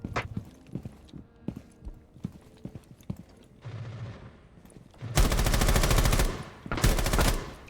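Gunfire in Rainbow Six Siege, with scattered footstep-like thuds at first, then two loud, dense bursts of rapid automatic fire close by, the second shorter than the first.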